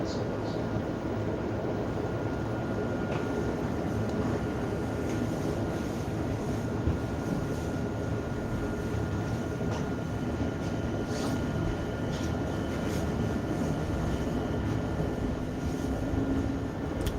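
Steady low rumble and hum from riding inside a smooth-running Helsinki tram, continuous and fairly loud throughout with faint rattles and no clear talk.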